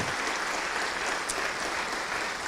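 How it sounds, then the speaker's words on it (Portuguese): Dense, sustained applause from a church congregation fills the space, loud and even from start to finish, with no talking over it. "Vamos aplaudir ao Senhor Jesus."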